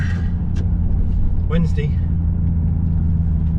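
A Nissan Skyline GT-R BNR34 engine idles with a steady low rumble throughout, under a man's brief speech near the middle.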